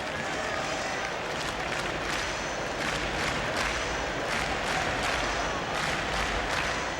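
Baseball stadium crowd at an American League Championship Series game in Toronto, cheering and applauding in festive mood, a dense continuous roar with bursts of clapping throughout.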